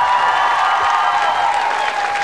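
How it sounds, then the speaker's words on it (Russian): A concert audience breaks into loud, dense applause, a steady wash of clapping from many hands that stays close and unbroken for a couple of seconds. "под бурные аплодисменты!"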